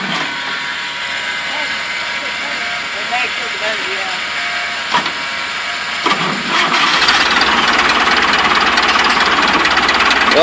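A backhoe engine cranks and catches, with a low rumble and a bang before it settles into a loud, steady running roar while people talk over it.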